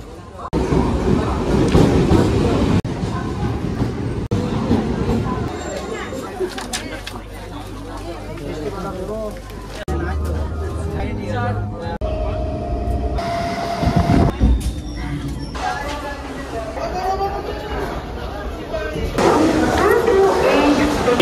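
Trains rumble and clatter at the crowded Howrah railway station, with rolling wheel noise, horn-like tones and station bustle, while people talk and chatter nearby throughout.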